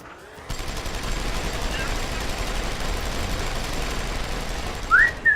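Enemy gunfire in Deus Ex: Human Revolution, a steady stream of rapid shots that starts abruptly and continues at moderate loudness, ending with a couple of louder bursts and a brief whistling tone.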